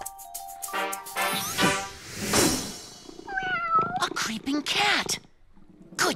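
Several short meows from a cat, some rising and falling in pitch, mixed with a lively voice and a bright chime.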